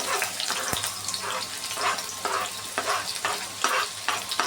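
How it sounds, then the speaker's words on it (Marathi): Crushed garlic sizzling in hot oil in a kadhai, a steady bright crackle with repeated scraping strokes of a spatula stirring it, close and fairly loud, no talking. "तेल गरम झाल्यावर त्यात भरपूर अशी ठेचलेली लसूण घालायची आहे."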